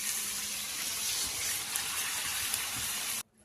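Water gushes steadily into a pot of jackfruit curry being cooked, a loud continuous pouring rush that stops abruptly near the end.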